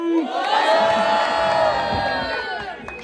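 A crowd at a Brazilian street rap battle in Grajaú cheers, whoops and shouts loudly for a rapper, a dense sustained roar with high-pitched yells rising above it for about three seconds.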